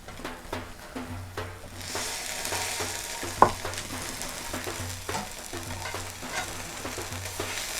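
Salmon fillet frying in a pan, a steady close sizzle with occasional scraping and stirring clicks and one sharp utensil knock partway through, with no talk.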